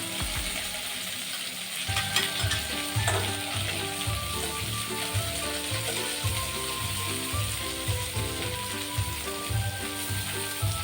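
Chopped garlic and ginger sizzle in a pan and are stirred, with a steady bright frying hiss under repeated rhythmic scraping and clattering of the spoon against the pan.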